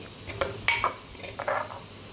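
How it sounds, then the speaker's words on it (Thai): A spoon scoops pounded soft-chili dip into a bowl, making a few light clinks and scrapes against the dish, close and fairly quiet, spaced over about two seconds. "ตักใส่ถ้วยเลยนะคะ"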